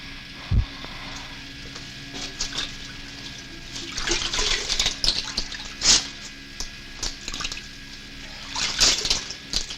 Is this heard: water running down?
yes